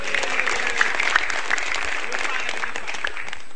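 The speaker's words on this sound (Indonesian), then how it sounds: "Tepuk tangan buat Kementerian Agama." Audience applause at an Indonesian stand-up comedy show, a dense, steady wash of clapping from a crowd, loud and close, continuing evenly without a break.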